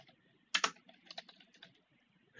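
Quick bursts of keystrokes on a computer keyboard while C# code is entered, with a loud cluster of clacks near the start and then lighter, scattered taps, close and clear with no talking.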